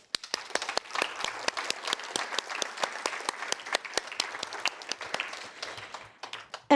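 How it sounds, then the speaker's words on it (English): A conference audience at a rural development event in Uppsala, Sweden, breaks into warm applause, many hands clapping in a dense, irregular patter that carries on for several seconds before fading. "A big applause to all of you."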